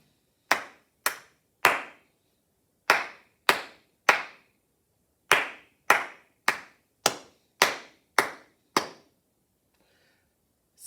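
Hands clap out a rhythmic pattern of sharp, close, dry claps in short groups with brief pauses between them, used as a rhythm exercise with no voices.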